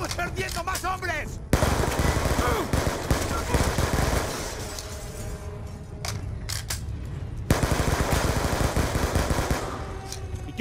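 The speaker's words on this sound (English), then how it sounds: "Gunshots came from inside." Bursts of rapid machine gun fire in the Call of Duty Black Ops 2 video game crackle loudly, with sustained automatic volleys broken by short pauses, mixed with game voices and ambient battle noise.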